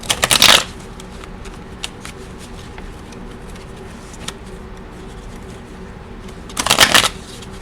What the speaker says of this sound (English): Okay, so I'm going to shuffle these.